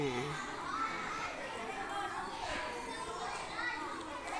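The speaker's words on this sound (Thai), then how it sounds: "เสียงเจียวเจ้า เด็กตื่นเต้น" Excited children on a school field trip, from kindergarten through sixth grade, chatter and shout together in a steady, dense crowd hubbub.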